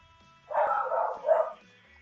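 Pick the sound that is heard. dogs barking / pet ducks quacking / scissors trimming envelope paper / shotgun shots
dogs barking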